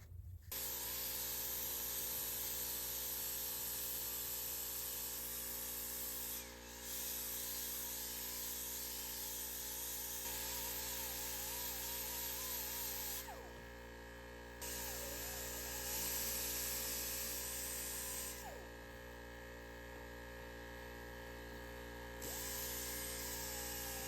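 An axe head being worked over with a 120 grit pad during a restoration, giving a steady, continuous hiss of abrasion with some short pauses and shifts in loudness, no voices present.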